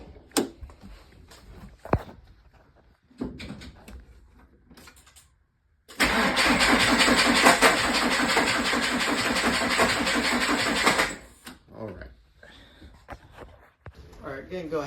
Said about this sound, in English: we have now acquired another starter, this one here. Hopefully this one's the charm and this one works